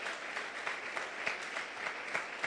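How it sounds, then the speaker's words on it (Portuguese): A church congregation applauds at an evening service, producing a steady wash of many hands clapping at moderate volume for the whole stretch, with no speech over it. "Você pode aplaudir o Senhor nessa noite?"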